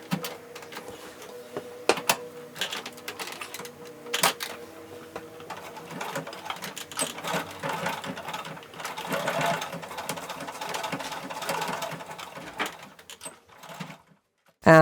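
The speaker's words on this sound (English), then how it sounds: "Now we're going to fold that over and we're going to sew that down now at 3/8 of an inch." A sewing machine stitches a folded 3/8-inch seam on a denim jeans bag, running in steady bursts of rapid mechanical clatter with brief pauses between runs, close and moderately loud.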